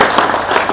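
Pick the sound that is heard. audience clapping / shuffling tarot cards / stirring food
audience clapping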